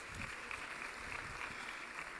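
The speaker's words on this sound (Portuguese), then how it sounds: "Uma salva de palmas para eles." Audience applause for music producers at the Cabo Verde Music Awards 2024, a steady, dense patter of many hands clapping that holds evenly and fairly quietly throughout.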